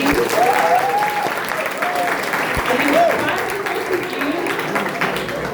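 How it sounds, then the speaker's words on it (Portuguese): Audience applause at a school Pink October talk, a full room clapping steadily throughout, with voices calling out and cheering over the clapping. "Gente, palmas para a Michelle"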